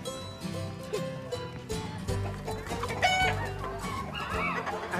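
A person at a fair imitates a chicken's clucking, loud and close, with busy fairground noise and music underneath.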